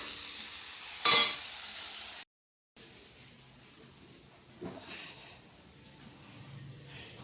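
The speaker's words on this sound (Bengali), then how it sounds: "এখানে হচ্ছে চিংড়ি মাছ ভাজা এটা হতে থাক" Prawns frying in oil give a steady, close sizzle with one loud spitting burst early on and a brief dropout partway through.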